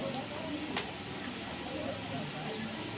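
Cumin seeds sizzle in a hot pan with chillies and garlic while avarekalu sambar is cooked, giving a soft, steady hiss that stays quiet and even throughout.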